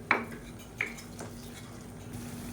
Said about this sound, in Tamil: இப்போ நம்ம ஊற்றிருக்க நல்லெண்ணெய் எல்லாமே நல்லா அப்படியே பிரிஞ்சு கலர் மாறி வரணும் அந்தளவுக்கு நல்லா வதக்கி எடுத்துக்கலாம்